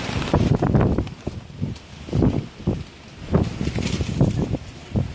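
Strong gusts of wind, around 50 knots, blowing down a Marseille street littered with rubbish, heard from a recumbent trike as loud buffeting rushes that surge and ease in waves.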